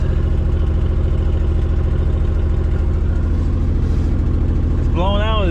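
A Ford Bronco II's engine idles in the snow with a steady, loud, even drone, and a brief voice cuts in near the end.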